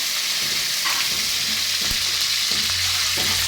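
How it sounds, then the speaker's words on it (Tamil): Mustard seeds and curry leaves spluttering in hot oil make a loud, dense sizzle with scattered sharp pops and crackles close by, continuous for the whole stretch. "கடுகு நல்லா பொரிஞ்சதுக்கப்புறமா கொஞ்சமாக கருவேப்பிலை"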